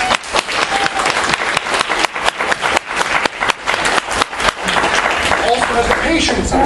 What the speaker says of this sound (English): Applause again, because